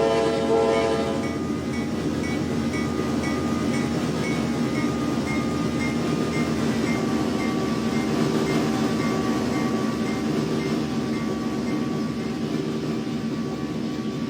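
Heavy CSX diesel freight locomotives, including a GE CM44CW, roar steadily under heavy throttle, a loud continuous engine drone with harmonic whine and rumbling wheels, close by, with no voices.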